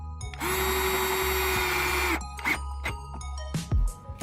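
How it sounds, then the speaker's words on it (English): A power drill whines steadily for about two seconds as it bores under the front bumper lip of a Hyundai Genesis Coupe. Clicks and handling knocks follow the drilling. "Now we go under and drill here."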